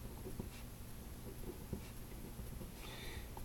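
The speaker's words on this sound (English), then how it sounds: "So we write down our square numbers." Pen or pencil writing numbers on paper, faint scratchy strokes coming in short bursts close by, with no talking.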